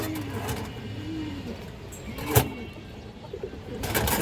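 Kaldam pigeons at a farm cooing in repeated soft, low rolling calls, close and fairly quiet, with a sharp knock midway and faint background noise.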